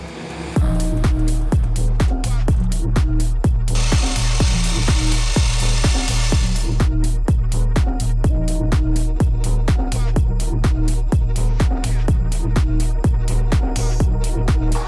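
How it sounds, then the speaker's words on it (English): A Toowoomba bandsaw fitted with Toowoomba blades cuts steadily and loudly at close range. Its running drone is punctuated by a regular rapid beat, and a brighter hiss joins in for a few seconds near the middle. "Toowoomba bandsaw, Toowoomba blades."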